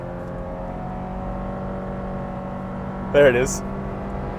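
A 2023 Honda CR-V with a CVT hums at a steady engine drone, then a brief rising rev flares near the end as a voice speaks over it.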